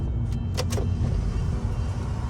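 Automatic sunroof in an Audi A3 40 TFSI cabin opening, heard as a low, steady electric motor hum under a couple of faint clicks, with no talking.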